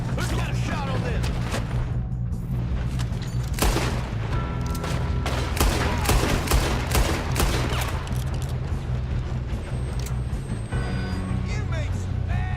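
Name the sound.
gunfire during a train robbery in the video game Red Dead Redemption 2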